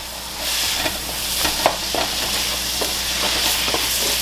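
Pineapple fried rice with fish, soy and oyster sauces is stirred in a hot pan, giving a steady sizzle and hiss broken by repeated scraping clicks of the utensil against the pan.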